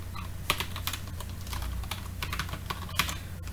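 Rapid, uneven keystrokes on a computer keyboard while code is typed in Turbo C during a bitwise operator lesson, close and clear over a low steady hum, with no talking.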